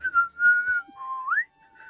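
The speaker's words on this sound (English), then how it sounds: "Can you whistle?" A person whistles a short tune alone, a few clear sustained notes followed by a rising slide, close and moderately loud with no talk.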